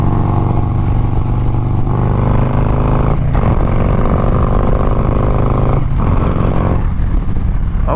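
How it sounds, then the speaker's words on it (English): A Harley motorcycle fitted with a windshield accelerates up to speed, a loud, continuous engine drone with two brief dips at gear changes, heard from the rider's position along with heavy rushing noise. "we're gonna get the bike up to speed for a second"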